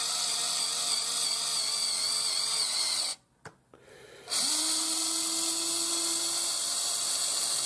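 A steady high-pitched electric motor whine from the arm mechanism of a Huina 580 full-metal RC excavator, cutting out briefly, then resuming with a rising tone as the arm moves.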